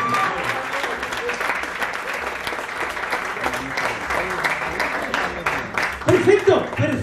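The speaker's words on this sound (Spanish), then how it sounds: "¡Fuerte el aplauso para ellos!" Strong applause from an audience at an improv comedy show, loud continuous clapping throughout, with voices and a shout rising over it near the end.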